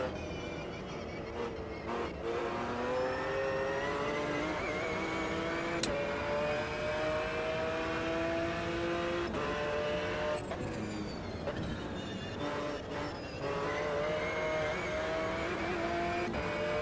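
A race car in the Automobilista 2 sim racing game revs hard and continuously, the engine note climbing and dropping through gear changes at low and high RPM, with brief tire squeal, loud and close throughout.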